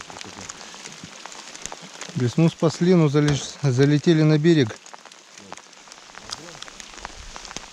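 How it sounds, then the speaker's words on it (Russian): Steady patter of rain hisses on a surface throughout during a fishing trip, with someone speaking briefly in the middle over the constant drizzle. "Дождь все сильнее и сильнее."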